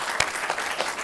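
An audience applauds after a speaker at a public talk, a brief, close patter of hand claps.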